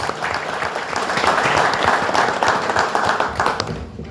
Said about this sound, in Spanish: A cual le pido un fuerte aplauso a todos los oradores